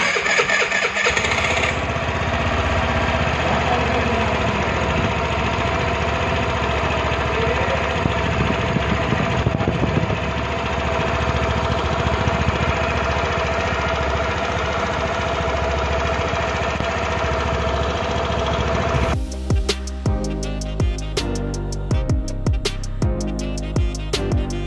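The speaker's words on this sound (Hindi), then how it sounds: "और एक बार स्टार्ट करके दिखाते हैं इसको।" A Suzuki Burgman Street 125 BS6 scooter engine starts and settles into a steady, close idle hum that runs evenly, then gives way to a sharp change in sound near the end.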